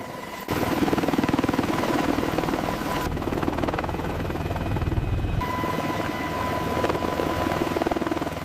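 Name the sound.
Apache attack helicopter lifting off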